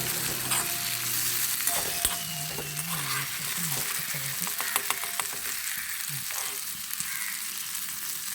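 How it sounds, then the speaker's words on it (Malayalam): Eggs fry in a small amount of oil, and a loud, steady sizzle and crackle fills the whole stretch. A few sharp spatula clinks and pops stand out near the pan, and nobody speaks. "ആ എണ്ണയിൽ തന്നെ നമുക്ക് ഈ മുട്ടയും കൂടി ഇട്ട് ഒന്ന് പൊരിച്ചെടുക്കാം"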